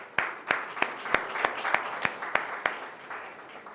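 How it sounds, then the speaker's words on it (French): Audience at a WAEMU conference welcomes a panelist to the podium with a thin round of clapping, about a dozen distinct, evenly spaced claps over a soft background, fairly close. "sous vos applaudissements"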